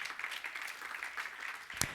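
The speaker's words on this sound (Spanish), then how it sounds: "Dale palmas si tú crees" A church congregation claps together during a sermon, making a soft, steady wash of hand claps that stays fairly faint and distant, with a sharper burst of clapping near the end.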